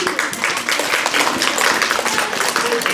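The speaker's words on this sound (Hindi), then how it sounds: "जोरदार ताली, जोरदार ताली प्रिंसिपल साहब की सदारत में।" Loud, steady applause from a crowd at a school election at Greenland Public School, Fatehgarh, Baramulla, held for the principal, dense continuous clapping throughout without pause.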